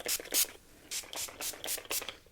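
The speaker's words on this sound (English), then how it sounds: "When I get out of the shower, I typically spray my hair with this one or the coconut oil one." Several short sprays of a light 5-in-1 leave-in hair spray misted onto hair after a shower, a quick pair of bursts followed by four more evenly spaced hisses, close and fairly soft.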